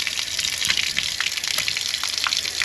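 Water gushes out of a fridge water filter housing in a steady, hissing rush with splashy fluctuations, close and continuous, without any talk.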